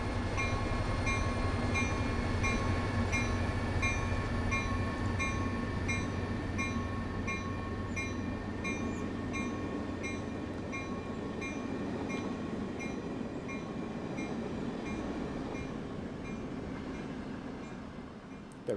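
A commuter train in the Train Sim World 2020 game runs past on the Peninsula Corridor, a loud steady rumble and roar of rolling stock with tonal hum and faint rail clatter, slowly easing over about nineteen seconds, no talk.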